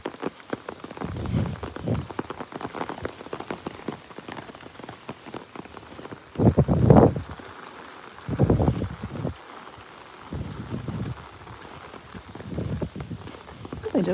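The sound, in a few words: rain falling on a walk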